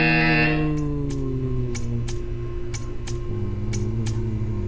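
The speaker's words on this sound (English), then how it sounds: "When you hear the buzzer, stare at the art." In the Portal 2 video game, a buzzer sounds as a sustained tonal hum with faintly shifting pitch, overlaid by sharp, regular ticks about twice a second.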